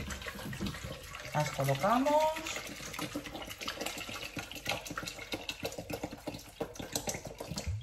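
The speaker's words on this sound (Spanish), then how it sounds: "ponemos el agua justo para que las cubra." Water is poured into a pot just enough to cover pieces of food for a minced beef gratin, a splashing, gurgling stream under a person speaking, followed by softer clinks and trickles.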